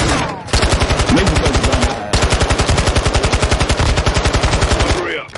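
Sustained automatic gunfire in Modern Warfare 2, a rapid even stream of loud shots fired from the hip, running almost continuously with a brief break, with a faint voice underneath.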